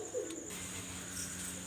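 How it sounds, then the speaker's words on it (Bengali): A red-eyed Kamagar pigeon gives a soft, low coo, brief and close, with faint background hum. "এটা হলো একটা কামাগার কবুতর, রেড আই চোখের কবুতর"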